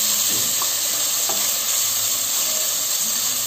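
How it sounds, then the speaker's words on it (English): Chopped tomatoes dropped into hot egg biryani masala: a loud, dense, continuous sizzle close up, with a few soft stirring knocks and no talk. "I'm adding the chopped tomatoes"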